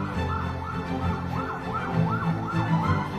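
An ambulance siren heading through a flood wails in repeated rising and falling sweeps, moderately loud and steady throughout, with no talking.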